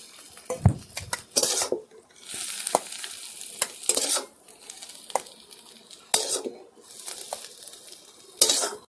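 Chopped banana flower pieces tipped into a pan and stirred, with repeated loud metal scrapes and clatters of a spoon against the pan over a low sizzle, no talk.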